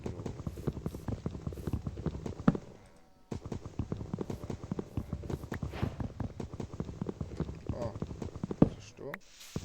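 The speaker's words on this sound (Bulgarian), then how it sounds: "има коне." Horses in a video game jungle clip-clop steadily in rapid hoofbeats, continuing with a brief pause while a person talks over them.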